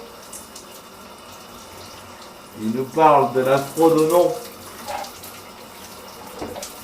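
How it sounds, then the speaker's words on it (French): Shower water runs in a steady, soft hiss throughout, with someone speaking French over it in the middle. "c'est rapide de prendre une douche en fait"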